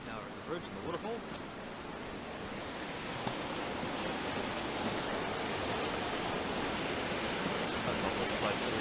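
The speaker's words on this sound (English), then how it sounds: "So now we're at the bridge and the waterfall." Waterfall beside a bridge on a bush walking trail, a steady broadband rush of falling water, close and continuous throughout.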